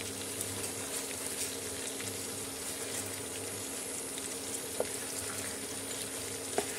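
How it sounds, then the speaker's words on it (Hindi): Chicken pieces for Kashmiri chicken masala fry in a pan while being flipped, a soft, steady sizzle with faint clinks and a low background hum, quiet and close, no talk. "इस तरह से हमें इसको उलटते पलटते हमें दोनों साइड से इसको बहुत अच्छे से फ्राई कर लेना है"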